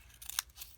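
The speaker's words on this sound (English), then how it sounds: "I'm going in just to those bigger petals that my fringed scissor created. I'm just going to cut them" Fringed scissors snip through paper cupcake liner petals, giving a few quick, crisp cuts close by with no one talking.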